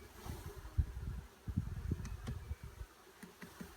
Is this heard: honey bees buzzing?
yes